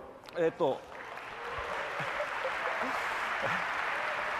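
Two brief spoken bursts open the clip, then a sustained wash of audience applause for an orchestra at the Nintendo E3 2011 press conference builds and continues steadily, with a faint voice underneath.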